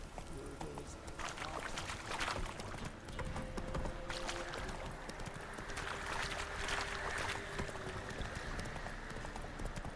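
Horse hooves clip-clopping at a steady gallop in The Witcher 3, a continuous rhythmic beat with a faint tonal game sound layered above, running the whole time with no talk.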